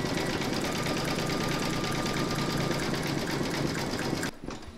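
Embroidery sewing machine running steadily while satin-stitching leaf detail on a large cross appliqué, a continuous fast mechanical whir and rhythmic needle chatter that stops abruptly near the end.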